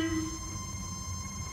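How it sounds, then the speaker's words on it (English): A 1971 VW Beetle horn gives one short honk at the very start. The faulty wiring makes it sound when the high-beam selector is pulled, and it fades quickly into a quiet hum. "the horn honks."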